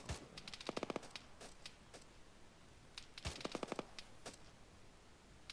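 Bursts of machine gun fire from a jungle platoon training drill in a military video game, sharp rapid volleys in two main clusters with scattered single shots between, fairly distant and moderately loud.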